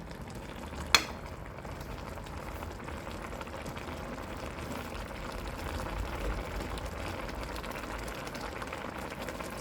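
Pork stir-frying in a pan for a simple Thai dish, giving a steady, close sizzle and bubbling throughout, with one sharp clink of a utensil near the start.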